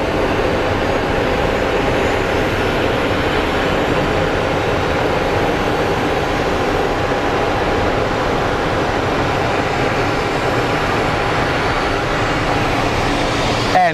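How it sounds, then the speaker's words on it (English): An American Airlines Embraer jet arriving from Tucson at Phoenix Sky Harbor International Airport gives a steady, loud broadband engine roar that holds constant for the whole stretch, with no speech over it. "And we do have the American Airlines, the Embraer coming in from Tucson."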